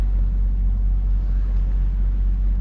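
A small boat's engine drones low and steady as it heads out of a cove, a continuous close rumble with no talk or breaks.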